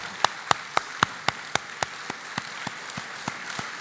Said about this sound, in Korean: 우리 감사하고 축하하는 박수를 한번 하겠습니다.